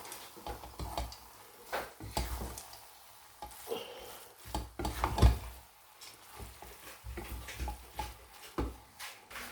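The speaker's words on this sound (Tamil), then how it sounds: "இப்போ நம்ம கிளறி விட்டுக்கலாம்" A spoon scrapes and stirs through keema noodles with green peas in a pan, producing irregular soft knocks and faint sizzling, with a sharper clack near the middle, all fairly quiet and without talk.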